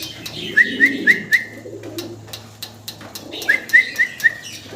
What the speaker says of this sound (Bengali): দুইটা কবুতরই মার্শাল্লাহ সুন্দর একদম